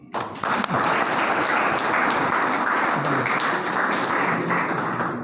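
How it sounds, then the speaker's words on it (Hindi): A crowd gathered for a talk on farming and sprinklers claps together in a loud, dense, sustained round of applause that starts abruptly and holds steady for about five seconds. "तो एक बार ताली बजा सकते हैं।"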